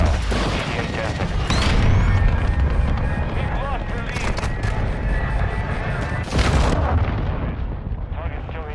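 Cruise missile strike explosions in Call of Duty: Modern Warfare II, heavy booming blasts and rumbling impacts layered over continuous battlefield gunfire, loud and dense throughout with a sharp surge near the end, faint radio voices mixed in.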